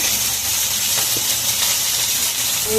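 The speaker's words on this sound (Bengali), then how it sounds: "দিয়ে এবার একটু মশলাটাকে কষিয়ে নেব। সঙ্গে আমি একটু হলুদও দিয়ে দিলাম," Ginger paste, spices and turmeric sizzle loudly as they are sautéed in hot oil in a pan for a Bengali fish curry: a continuous, close, bright frying hiss with faint stirring scrapes and no talking.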